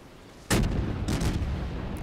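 Naval artillery shells strike a ship in the naval combat game World of Warships, with a sharp heavy impact followed by a rumbling second volley, moderately loud with no talk.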